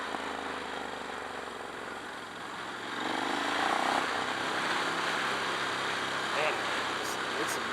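A Ducati Scrambler 1100 motorcycle cruises along with a continuous engine drone, heavy wind rush and road roar, the note lifting slightly midway as the rider holds a steady pace, with a muffled voice underneath.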